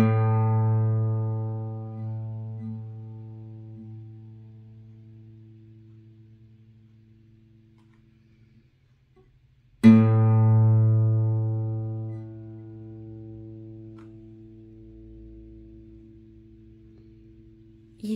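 A single guitar string, the third, is plucked and left to ring, its tone and overtones decaying slowly, then struck again about halfway through and fading once more, clear and isolated.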